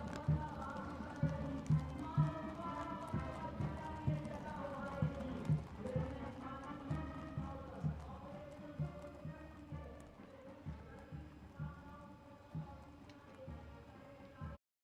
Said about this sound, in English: mounted on magnificent gleaming steeds, the 61st Cavalry Contingent, led by Captain Ahan Kumar